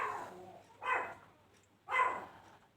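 A pet dog barks twice, about a second apart, each bark short and fairly close, with quiet room tone between them.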